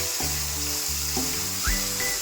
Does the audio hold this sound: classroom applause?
no